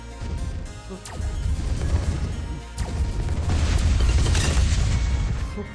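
Rapid crunching bomb blasts and crashes from a Bloons TD 6 tower defense game pile up into a dense, loud barrage that rumbles on without pause.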